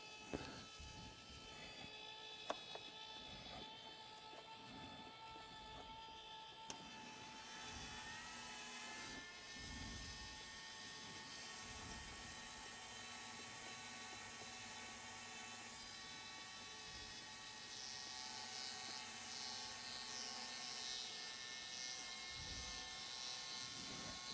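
An ornamental lathe cutter spins at 8,000 to 10,000 RPM, cutting a 24-bump rosette pattern. It gives a steady, high-pitched whine with a sustained hum that runs throughout and swells a little toward the end.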